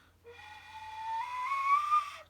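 A whistle sounds its high tone in one sustained, fairly loud note of about two seconds, rising slightly in pitch, heard alone with no voices.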